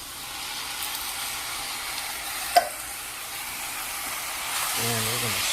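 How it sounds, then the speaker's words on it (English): Rice and canned cherry tomato filling being stirred in a hot pan for stuffed peppers, a steady close sizzle and hiss with a brief sharp scrape in the middle and soft stirring sounds throughout. "we're going to stir all this up"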